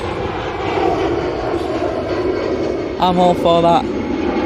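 An EasyJet jet airliner departing Manchester Airport sends out a loud, sustained engine roar throughout, while someone talks over it near the end.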